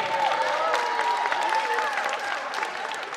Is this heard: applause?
yes